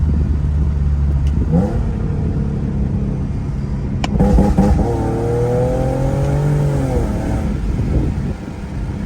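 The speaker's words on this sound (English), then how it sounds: "Downshifts sound amazing." A 2008 Infiniti G37 Coupe engine drops a gear with a brief blip, then climbs steadily in pitch as it accelerates hard, loud and close from inside the car.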